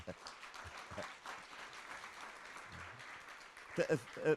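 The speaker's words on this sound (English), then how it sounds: "A round of applause, please, for Øystein Olsen." Applause from a moderate symposium audience, a steady patter of clapping with a few louder bursts near the end, fairly quiet overall.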